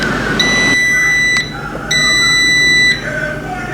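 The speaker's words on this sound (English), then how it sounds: "So after it's done, it'll beep." Air fryer cooking salmon signals it is done with two long, loud electronic beeps close by, separated by a short pause.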